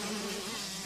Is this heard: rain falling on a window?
no